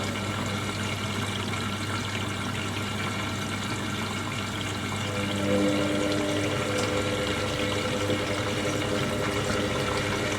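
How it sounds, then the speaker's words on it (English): An Indesit IWDC6125 washer dryer fills with water for a rinse, giving a steady rush of inflowing water with a pump-like hum that swells slightly partway through. It plays alone at moderate level. "Usually these fill in two stages of the rinsing."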